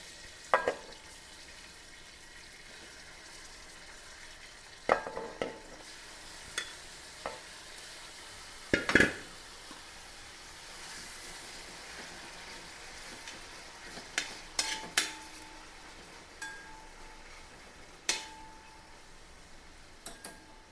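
A second batch of chicken frying for dum biryani: a soft steady sizzle beneath scattered clinks and scrapes of a stirring utensil, with one louder knock, no talking.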